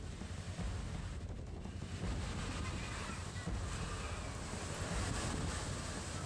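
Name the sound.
cyclone high sea waves and strong wind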